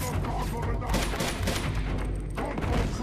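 Sustained bursts of gunfire from the Uncharted 2 shooter game, dense and loud throughout with booming impacts, a continuous fusillade under in-game noise.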